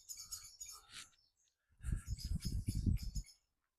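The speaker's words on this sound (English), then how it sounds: "The birds are signaling. They are singing." Birds sing outdoors near a tree in town, bright chirps and short trills in two bursts, the second bunched tightly over a low rumble.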